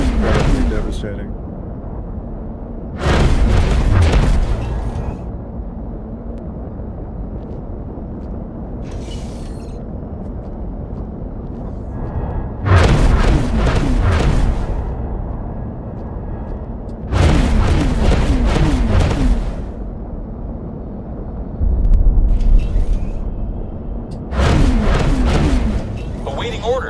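Ship weapon volleys in the space game X4 Foundations explode in several heavy, booming bursts spaced a few seconds apart over a constant low engine-like rumble.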